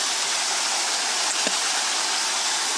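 Water washing dirt in a gold pan at a gold camp, a steady rushing hiss that stays level throughout, loud and close, with no talking.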